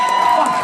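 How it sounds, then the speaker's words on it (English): A live comedy-show audience in Las Vegas claps and cheers in a brief, loud burst of dense crowd noise. "Stop clapping."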